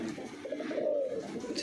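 Low, rolling coos from a loft of show pigeons in Uttar Pradesh carry on without a break, close by and moderately loud, the murmuring rising slightly toward the middle before easing off.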